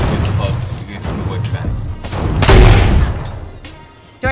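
A barrage of rockets slamming into a building in Fortnite, with dense booms and crashes swelling to a loud blast midway, while people talk over the gunfire.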